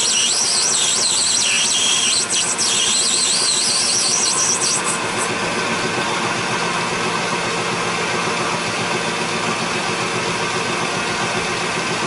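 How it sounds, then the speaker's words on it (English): A small Enco 9x20 metal lathe runs with a loud, steady mechanical drone and hum, a high whine fading out in the first few seconds, with no voices. "This lathe is a Enco 9x20. It's a small lathe."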